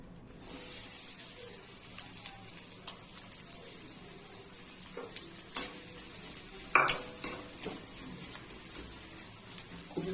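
Chopped onion fries in hot oil in a pan, giving a steady, even sizzle throughout, with occasional louder utensil clinks and scrapes toward the end.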